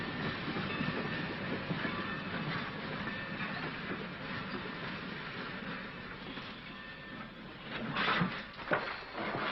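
A train running on rails in a 1951 western film scene, a continuous rumbling clatter of wheels and cars, steady and close, with a few louder knocks and screeches near the end.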